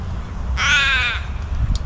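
A single crow gives one loud, harsh caw close by, lasting about half a second over a low rumbling background, with no talking.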